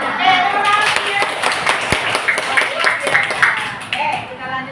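A classroom group claps together while a voice talks over it, giving brisk, close clapping with some scattered taps.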